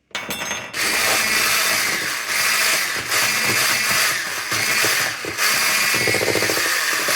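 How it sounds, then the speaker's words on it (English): An electric mixer whirs loud and close as sugar is beaten into a tiramisu mixture, its motor droning steadily with slight dips and a rattling, grinding edge; no voices. "This is our first tablespoon of sugar, and then we will mix it again."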